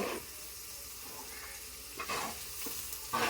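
Eggplant pieces frying in oil in a home kitchen, a steady continuous sizzle with a few brief stirring clatters near the end, no talking.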